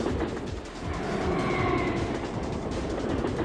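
Steady, loud rumbling roar of trains passing by in the video game Syphon Filter, swelling slightly toward the middle and continuing without a break.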